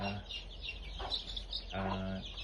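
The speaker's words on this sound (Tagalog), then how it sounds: "meron tayong inahin dito" A hen clucks in short bursts, close by, with soft low murmuring calls between them.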